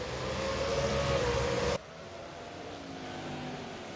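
Race car engine in a racing video game at Martinsville, a steady loud drone with a tonal whine that cuts off abruptly partway through, leaving a quieter engine hum.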